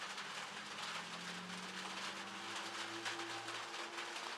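An American Flyer model steam train runs with a faint, continuous rushing hiss and a soft rumble of the moving locomotive, heard alone at low volume.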